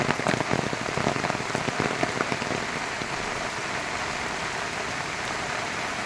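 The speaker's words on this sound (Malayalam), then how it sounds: "നല്ല മഴയാണ് കേട്ടോ" Heavy rain pours down steadily, drops pattering densely on a hard surface, loudest at the start and then holding an even, continuous roar.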